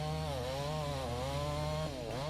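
A chainsaw runs steadily during timber logging in the Pacific Northwest, its engine droning loud and close with a wavering buzzing pitch that dips slightly near the end, with no voices.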